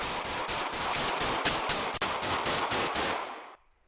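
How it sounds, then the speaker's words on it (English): A rapid string of gunshots fired into the air in quick succession, sharp and loud, continuing for several seconds before stopping abruptly. "Three magazines worth of gunfire shot into the air early in the morning on New Year's Day."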